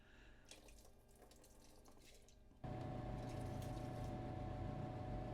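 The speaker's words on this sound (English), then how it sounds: "we'll rinse the tap water off with some distilled water" Distilled water running to rinse off tap water, first a light trickle and spatter, then a steady, louder, full stream of pouring water with no talk.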